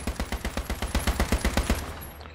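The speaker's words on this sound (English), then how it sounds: "Suppressing fire." Suppressing fire in H1Z1: King of the Kill, a rapid automatic burst of about fifteen evenly spaced gunshots, loud and close, cutting off after about two seconds with no talk over it.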